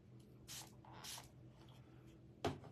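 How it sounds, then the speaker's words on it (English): A small spray bottle mists water onto watercolor paints in a few short, soft hissing bursts, three quiet puffs close by with a faint tap at the end, no speech. "that little spraying water on the watercolors is where it's at"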